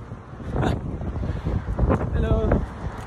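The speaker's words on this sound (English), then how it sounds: "too windy here" Strong gusts batter the microphone with low rumbling buffeting in the European District at Eumo, rising and falling in waves, with faint voices in the background.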